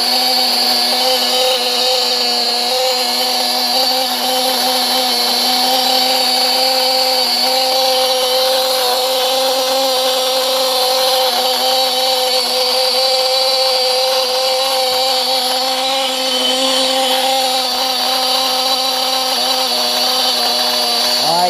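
Picco .28 nitro engine running steadily at a high, buzzing whine with strong overtones, loud and unchanging throughout, with no talk.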